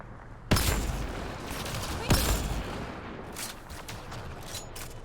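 Hip-fire gunfire in Mass Effect Andromeda, two loud sharp blasts a second and a half apart followed by lighter rattling shots in the game's combat noise, with a voice talking over it.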